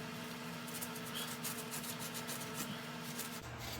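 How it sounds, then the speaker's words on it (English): A butter knife scrapes loose buildup from the inside lip of a stove burner in a faint, steady rubbing and rasping close by, with no talk. "A butter knife or anything like that, I'm just working any of the buildup loose in there."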